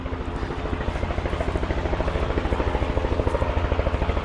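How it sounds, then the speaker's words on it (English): Helicopter at the Cooroy Mt Spring Water festival, a steady rapid rotor chop over a dense engine roar, close and loud throughout with no talk. "Let's get to the chopper."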